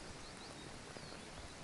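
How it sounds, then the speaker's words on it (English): Rain falls as a steady, dense hiss, soft and even, with no talking over it. "The rain will stop when it stops"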